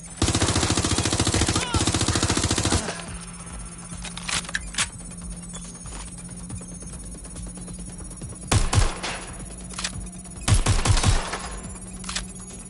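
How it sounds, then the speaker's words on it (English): Bursts of automatic gunfire in the video game Watch Dogs Legion, a long sustained volley at the start followed by scattered short rattles and single shots against a humming game background. "Shots fired!"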